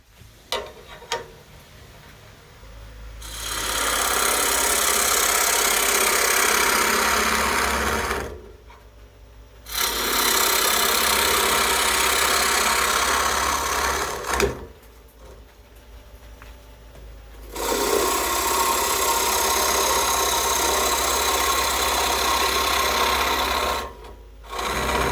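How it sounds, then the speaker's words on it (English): Bowl gouge hollowing a maple kuksa on a wood lathe, giving a loud, steady scraping and rasping in three long cuts separated by brief pauses, with no talking. "We're going to switch to the bowl gouge."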